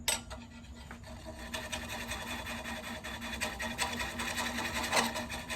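A 3/8 gouge cuts into a Manila tamarind wood cereal bowl spinning slowly on a lathe, giving a continuous close scraping, rasping drone under a low motor hum, with a sharper catch near the end.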